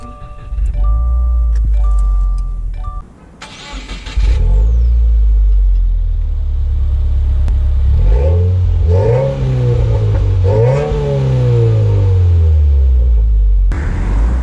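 A 2019 Subaru WRX engine drones loud and close from inside the moving car, with a short lull, then repeated revs rising and falling through gear changes.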